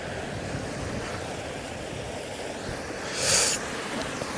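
Choppy sea surf washes steadily against a weedy, rocky shore, a continuous broad rush with wind buffeting the microphone and one louder splash near the end.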